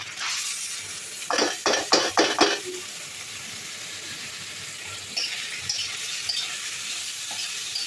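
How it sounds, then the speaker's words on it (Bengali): Vegetables hit a hot pan already holding garlic, onion and a little ginger, giving a burst of loud clattering scrapes, then a steady close frying hiss with occasional lighter stirring taps. "এখন সবজিগুলো ঢেলে দিব।"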